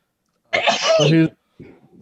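A single loud, close sneeze bursts out abruptly, followed by a brief pause and a faint voice.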